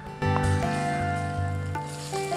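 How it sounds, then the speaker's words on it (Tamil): Crushed ginger and garlic hit hot oil for chicken biryani in a pressure cooker, giving a sudden loud, steady sizzle that carries on with crackling pops throughout. "இப்போ நான் இடித்து வச்ச இஞ்சி பூண்டை சேர்த்துக்கிறேன்."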